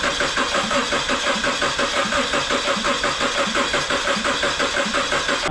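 A car engine, just back together after a cam phaser repair, cranks and fires up, then runs steadily and loudly at a rough idle throughout with no talking.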